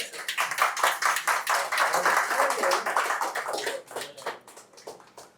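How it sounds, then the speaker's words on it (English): An audience claps for a volunteer who played piano in a music shop, a dense, even burst of hand claps lasting several seconds before thinning out near the end. "By the way, clap for her, please."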